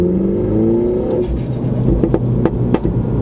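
Mini Cooper engine revving hard after a fresh set of spark plugs, a loud close drone that climbs in pitch and is punctuated by sharp bursts as the throttle blips near the end.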